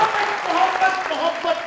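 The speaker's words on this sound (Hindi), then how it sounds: "सभा जी के लिए तालियां।" An audience applauds Saba on a comedy talk show, with a brief burst of dense, close clapping that rises and falls over less than two seconds.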